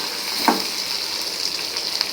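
Onion and tomato sauté in a pan for radish chutney, giving a steady close hiss of sizzling with one short stirring scrape near the start and no talking.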